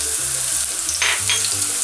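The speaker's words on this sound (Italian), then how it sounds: "Andiamo ad aggiungere lo scalogno" Chopped shallot hits hot extra-virgin olive oil in a pan, giving a loud, steady sizzle throughout with a brief surge of spitting crackle near the middle.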